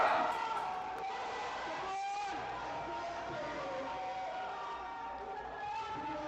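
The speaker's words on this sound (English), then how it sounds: "And the crowd is going crazy." Spectators at a national powerlifting competition in Trinidad and Tobago cheer and shout, a steady wash of crowd noise with whoops, while a commentator talks over it.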